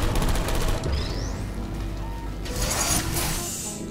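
Turret gunfire from the game Portal 2, a dense, busy burst of rapid shots and mechanical whirs running under loud in-game clutter for the whole span, with no clear individual shots standing apart.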